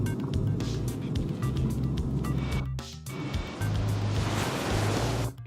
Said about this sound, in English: I put the sound of ocean waves with pirates